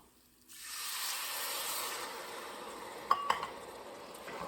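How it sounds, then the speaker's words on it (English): Chardonnay poured into a hot cast iron skillet sets off a sudden hissing sizzle that holds steady and slowly fades, with a couple of light metallic clinks near the end. "And then you're going to dump in your Chardonnay."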